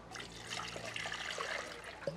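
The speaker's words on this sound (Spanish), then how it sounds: "Le voy a poner aquí poquita agua" A little water poured onto masa dough in a kitchen while straining tamarind for atole, a soft close trickle and splash lasting a couple of seconds, alone without talk.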